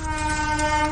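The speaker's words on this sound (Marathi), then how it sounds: "आणि ट्रेन आली" A loud, sustained train horn blares close by over the rumble of an arriving train on the Matheran line.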